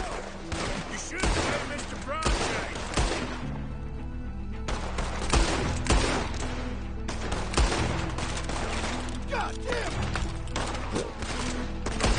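Rapid pistol gunfire and shooting chaos crackle through a video game firefight, with dense, repeated shots and crashes running throughout. A player's voice is heard intermittently over the action.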